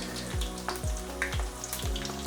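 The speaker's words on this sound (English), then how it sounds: "we're going to gently lay it down, face down, into the hot oil, followed quickly by another one. Let it sizzle away for a little bit." Slices of toast frying in hot oil for a Chinese banquet dish, a steady close sizzle with soft bubbling and a few gentle stirring or scraping touches, no talk.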